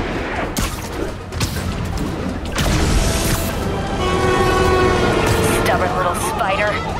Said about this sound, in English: That train is so goddamn fast.